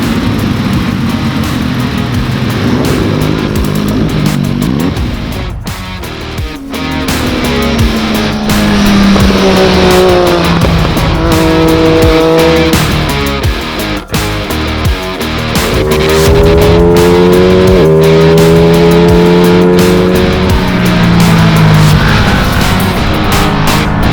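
A Ducati Panigale 959 Corse and an MV Agusta F3 800 RC ride on a racetrack, with loud, continuous engine roar and repeated rising and falling revs through gear changes, close and without talk.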